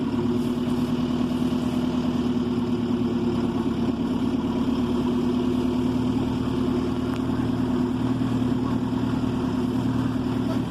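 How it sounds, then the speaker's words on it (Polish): A Fendt 410 Vario tractor engine runs steadily while driving, a loud, close mid-pitched diesel drone with a constant tone and no breaks. "ciągnik zmienia kierunek jazdy płynnie"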